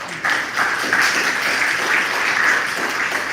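Crowd applause in a temple hall, a dense, sustained wash of many hands clapping together, loud and even throughout.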